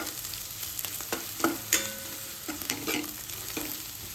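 Spices, chilli powder and garam masala for dal masala khichdi sauté in oil, giving a soft sizzle under a few sharp clinks and scrapes from a stirring spoon, close but fairly quiet.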